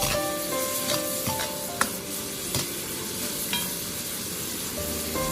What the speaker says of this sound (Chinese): 将小河虾翻炒均匀